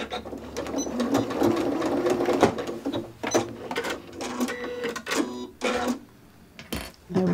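Close up, a sewing machine stitches a corner of a drawstring tote backpack lining in short, choppy runs, with clicks and pauses between the bursts.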